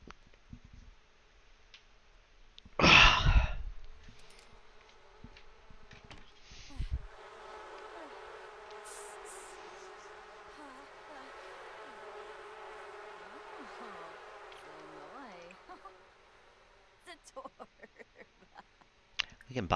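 Bees buzzing in a video game, a steady droning buzz that lasts about eight seconds after a sharp burst of sound, with scattered game noises around it.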